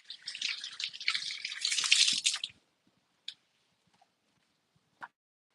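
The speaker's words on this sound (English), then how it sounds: "I'm gonna wash my hands" Running water from a tap washes hands for about two and a half seconds, a steady hiss that stops abruptly, followed by a couple of faint drips and ticks in near silence.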